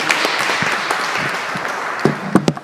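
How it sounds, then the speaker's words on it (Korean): Applause rings out from a Korean church congregation in Paris at a Tuesday Bible study, cheering the worship team with steady clapping that thins into a few louder scattered claps. "한 박수로 격려하겠습니다."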